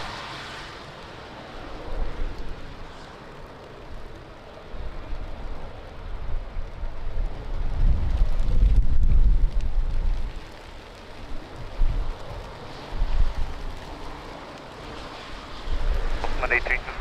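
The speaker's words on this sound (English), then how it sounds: "It's raining a lot" Heavy rain and gusting wind at Lisbon Airport make a steady broadband wash that swells and fades in rumbling gusts, with voices heard intermittently over the weather.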